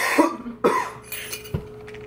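A person coughs three times, close and loud, in a room. Each cough is a sharp burst, with short gaps between them.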